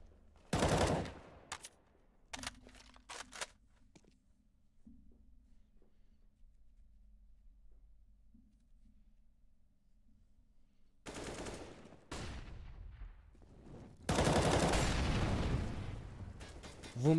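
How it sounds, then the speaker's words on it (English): Gunfire on the Cache map in a competitive Counter-Strike match: sharp, isolated single shots and short bursts separated by near-silence, then heavier, sustained firing near the end. "you can see that sniper rifle being deployed"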